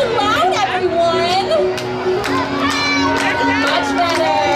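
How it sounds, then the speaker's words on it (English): A crowd at a PEANUTS block party at Canada's Wonderland cheers and shouts loudly, children's high voices rising and falling in a dense roar, with a sustained amplified tone underneath. "I'm gonna need to hear you cheer nice and loud, everyone."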